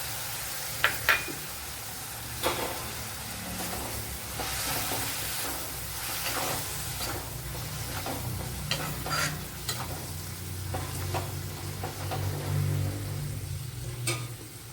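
Tomato puree is poured into onions frying in a pan for a roasted-coconut chickpea curry. A steady close sizzle runs throughout, with scraping stirs and a few sharp utensil clinks, and no talking.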